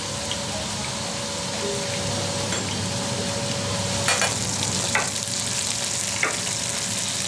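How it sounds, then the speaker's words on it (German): Garlic frying on its own in a pan gives a steady, close sizzle throughout, with a few brief crackles and pops rising above the hiss; no voices. "Heute wird der Knoblauch separat gebraten."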